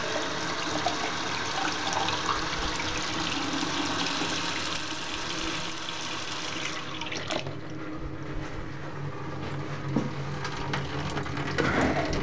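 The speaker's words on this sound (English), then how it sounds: "I'm turning the water on to try out the drain" Bathroom sink faucet running to test a newly fitted drain: a continuous loud rush of water with splashing and dripping into the basin, steady throughout with a slight change midway, no talking.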